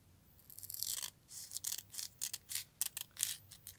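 Scissors cutting garden material along marked lines, a rapid series of short, crisp snips and rasps, close and fairly quiet, coming in quick bursts.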